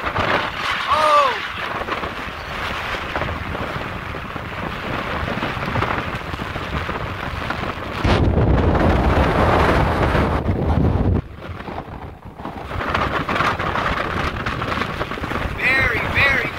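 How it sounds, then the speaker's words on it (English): Heavy wind of about 40 mph during Tropical Storm Cristobal on Dauphin Island, Alabama, roars and buffets the microphone while rain pours steadily, with gusts surging louder in the middle. "Very, very windy here."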